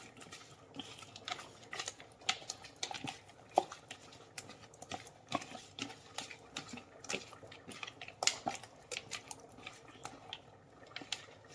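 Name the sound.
mixing quail pieces with masala in a bowl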